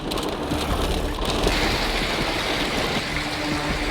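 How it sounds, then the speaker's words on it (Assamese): Heavy rain pouring down during a storm in Assam, a dense, steady wash of noise with no break across the few seconds. "তাৰ পাছতে আহিল এজাক বৰষুণ"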